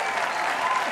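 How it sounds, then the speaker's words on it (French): A studio audience applauds a band on a TV show, a brief, loud, continuous burst of dense clapping from a crowd. "Applaudissez encore pour eux s'il vous plaît."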